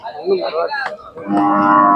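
A native Khillar cow at a cattle market in Sangola, Maharashtra, lets out a loud, close moo that rises and swells, breaking briefly before a second sustained bellow.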